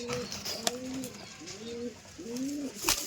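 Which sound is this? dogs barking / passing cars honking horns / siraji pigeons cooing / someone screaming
siraji pigeons cooing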